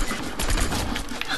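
A quick burst of rapid Fortnite gunfire crackles under a noisy background, dense and close for about a second.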